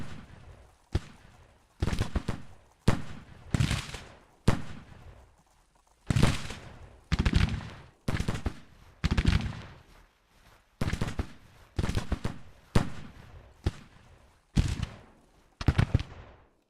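Volleys of Civil War musket fire from troops in Grand Tactician: The Civil War, about a dozen sharp, loud bursts, each followed by a short rolling echo, spaced roughly a second apart.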